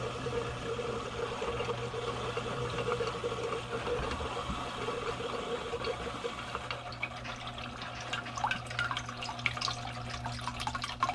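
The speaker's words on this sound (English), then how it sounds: "so you can hear the water running" Water runs steadily from a faucet in a 2022 Keystone Montana RV during un-winterizing, a continuous close hiss and splash with fine trickling detail, alone without talk.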